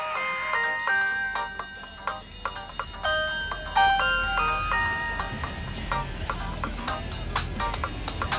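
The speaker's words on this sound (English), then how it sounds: "all of the citizens of the level get together for a nice Nokia ringtone satanic ritual" Nokia-style ringtone melodies play in the video game Disney's Extreme Skate Adventure, several overlapping electronic tunes chirping at once, loud and continuous with no talking.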